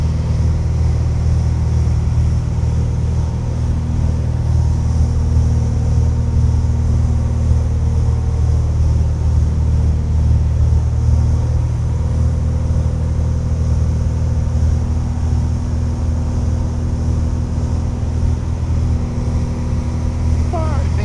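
A small airplane's piston engine runs up on the ground before a traffic-pattern flight, a loud, steady droning hum close by, with a voice talking briefly over it.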